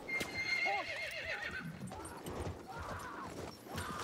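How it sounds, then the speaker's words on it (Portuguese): A horse in the video game Battlefield 1 whinnies shrilly a couple of times over rapid hoofbeats, with clattering gallops continuing at moderate volume. "Vamos abandonar esse cavalo aqui"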